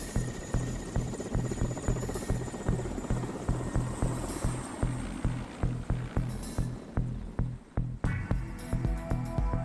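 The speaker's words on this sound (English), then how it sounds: "We board another leftover of the Soviet war machine, an Mi-8 helicopter." An Mi-8 helicopter flies over Kamchatka in the Russian Far East, its rotor beating in a steady, rapid chop over a constant engine roar, heard from inside the cabin with no talking.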